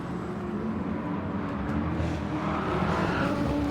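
GT3 race cars at La Sarthe in a sim racing game, a dense steady engine roar at high revs that swells slightly as the pack drives on, loud and continuous with no talk.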